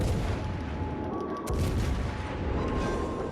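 Battleship guns fire in the naval combat game World of Warships: Legends, a dense, continuous rumble of heavy booms with one sharper crack near the middle.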